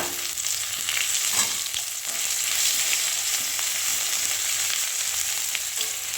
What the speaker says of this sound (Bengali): আদাটি ভাজা হয়ে গেলে